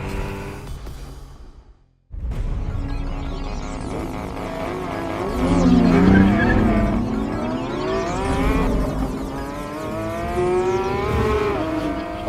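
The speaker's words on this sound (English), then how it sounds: "we had to run a few drag races" Porsche GT3 RS and Maserati MC20 Cielo sports cars drag racing side by side: after a brief hush, loud engines roar and rev, climbing through repeated gear changes, with a sustained high-pitched whine and no talking.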